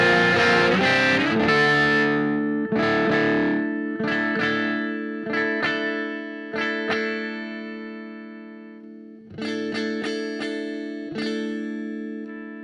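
An electric guitar runs through two vintage fuzz pedals combined left and right, giving thick, distorted, sustained chords that ring out and decay, then restart with a few struck notes, loud and alone.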